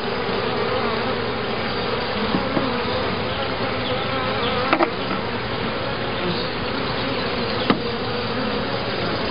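Honey bees in a swarm hive under inspection hum in a dense, continuous close-up drone, broken only by a few faint knocks.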